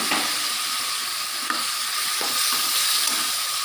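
Taro leaves hit a hot pan and fry, giving a continuous loud sizzle and hiss close up, with a few faint stirring knocks along the way and no talking.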